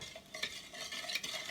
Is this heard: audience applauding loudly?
no